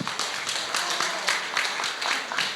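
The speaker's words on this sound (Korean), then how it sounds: "박수 한번" A seminar audience applauds, scattered hands clapping together in a brief, moderately distant burst that fills the room.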